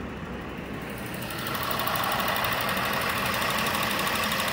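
Car engine idling at operating temperature, a steady, even running drone close by that grows slightly louder after a second or so and then holds level.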